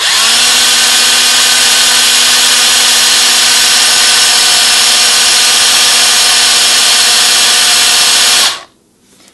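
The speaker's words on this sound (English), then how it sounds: "All I'm going to do is hold it underneath the plunger, and I'm going to run the drill." A drill spins a NuTone Series 1 Trinity four-note door chime plunger against 2000 grit sandpaper, giving a loud, steady high whine with a faint rubbing hiss that holds for about eight seconds before cutting off abruptly.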